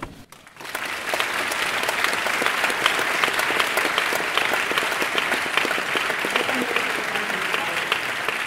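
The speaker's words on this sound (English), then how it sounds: "That is the sound of people clapping for Liz Spelke at the end of her keynote tal" A large audience at the end of a talk breaks into sustained applause, dense and even clapping that continues steadily without pause after a brief quiet start.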